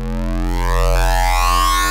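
A bright, buzzy Serum synthesizer wavetable tone with distortion added, one sustained note rich in harmonics whose timbre sweeps and shifts as it holds, loud and alone for about two seconds.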